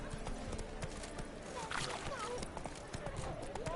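A horse gallops in the Witcher 3 video game, its hoofbeats a steady, fast rhythm under game voices speaking over the top.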